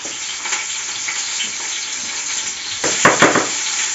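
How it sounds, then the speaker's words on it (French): Onions sizzle and fry in a pan while a potée is being prepared, a steady close hiss that swells into a louder burst of sizzling near the end, with no talking. "Faut que je m'occupe de mes oignons là, qui font déjà un petit peu de bruit."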